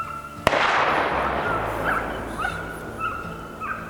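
A sharp hunting gunshot cracks once in a forest, then echoes away into the distance while a dog on a game trail yelps and barks faintly far off.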